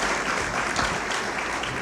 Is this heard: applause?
yes